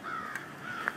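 A crow mobbing a bird of prey near a university building gives two harsh, nasal caws, the second sharper and slightly louder, fairly close, with no talking.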